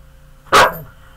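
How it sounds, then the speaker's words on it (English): A single loud, sharp bark from a nearby dog rings out once against an otherwise quiet room. "And that's my dog."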